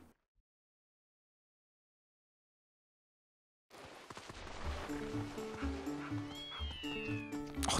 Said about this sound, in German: Diese Katzen hier.